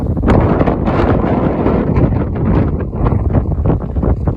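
Strong wind in a desert buffets the microphone in loud, continuous rumbling gusts, with faint rustling underneath and no talking.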